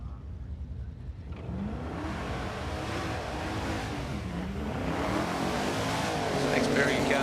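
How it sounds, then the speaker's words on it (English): Cars at a Friday night drag meeting at Calder Park launch off the line, including a big Holden Statesman, with a continuous engine roar building and rising in pitch as they accelerate, moderately loud under a commentator's voice. "So next pairing of cars get off the line."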